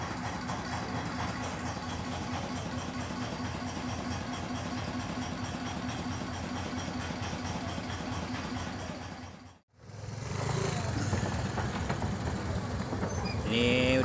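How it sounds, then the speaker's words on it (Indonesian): A steady low boat motor drone runs throughout at a morning river crossing, joined by murmuring voices, then briefly cuts out before resuming louder and closer as the boat arrives. "Ini udah mulai datang kapalnya nih, motor airnya nih."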